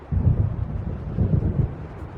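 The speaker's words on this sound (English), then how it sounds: "It seems there's a storm coming." Low rumbling thunder of an approaching storm in Alan Wake Remastered, a steady deep rolling rumble with wind-like texture, moderately loud and continuous.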